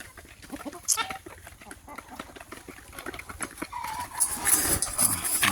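Imported-breed chickens being raised the traditional way on a village farm cluck and call nearby, with scattered bird calls and rustling that grow louder toward the end.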